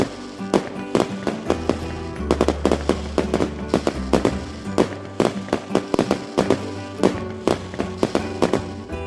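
Firecrackers bursting during Diwali celebrations, a rapid, irregular run of sharp loud cracks and pops, some in quick clusters, over a steady low rumble throughout.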